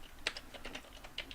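A file name being typed on a computer keyboard at a Windows 10 desk, a short run of light, irregular key clicks close by with no talk.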